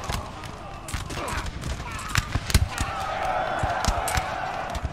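Musket volleys from massed infantry in a Napoleonic-era battle, as in Napoleonic Total War 3: a rolling crackle of scattered shots and a few sharper cracks over steady battle noise, with a voice talking throughout.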